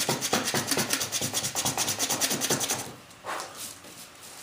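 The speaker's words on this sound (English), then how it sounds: "But first, I'm going to hit it with some sandpaper." Sandpaper rubbing aluminum before welding, a rapid rhythmic rasping of about a dozen close, steady back-and-forth strokes that stop midway, followed by a couple of softer scuffs.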